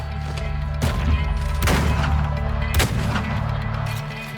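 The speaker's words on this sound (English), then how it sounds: "Shotgun it is." Loud shotgun blasts in the video game Weird West, three heavy booming shots spaced about a second apart over a constant droning game soundtrack.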